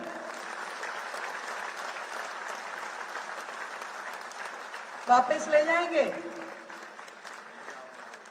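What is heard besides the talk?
audience applause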